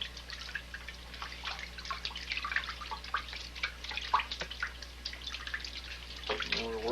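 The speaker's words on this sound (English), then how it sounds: "Now we're going to put them in the bucket again and see what we get when we rinse them off." Oily items being rinsed by hand in a bucket of cold water, giving steady close sloshing, dripping and splashing water sounds with brief louder swishes, running continuously throughout without any talking.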